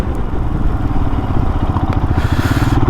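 A Royal Enfield Himalayan motorcycle slows from 50 mph on its front brake, the engine thrumming with a rough, pulsing rumble and wind rush close to the rider.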